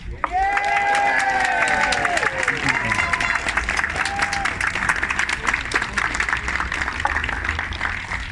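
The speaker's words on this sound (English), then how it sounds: "I'd like you all to give yourselves a round of applause for a change." Outdoor protest march crowd outside council offices applauding, with dense sustained clapping and some cheering, near and steady throughout while voices briefly rise over it at the start.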